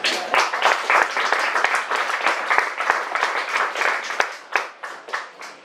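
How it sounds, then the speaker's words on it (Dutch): An audience at a Dutch theme evening applauds an announced speaker with brisk, close clapping that thins into scattered individual claps before stopping. "Nog een applaus voor hem."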